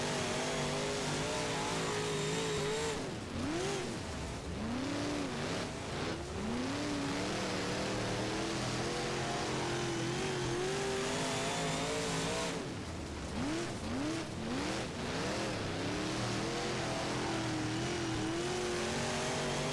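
A race car engine in the rFactor racing game, a UMP modified, revs continuously, pitch sweeping up and down through gear changes, loud and close throughout.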